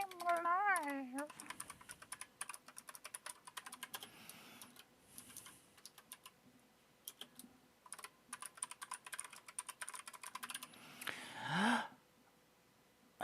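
Steady, quick clicking of typing on a computer keyboard runs nearly throughout, close and moderately loud, with a brief voice or breath at the start and a short burst of vocal noise near the end.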